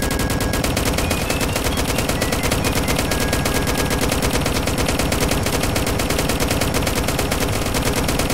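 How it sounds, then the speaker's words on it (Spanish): Dense, continuous video-game gunfire rattles without pause, rapid automatic bursts of shots aimed at the player's character sitting inside a military Humvee, loud and close throughout with no talk over it. "Me están disparando a mí, ¿no?"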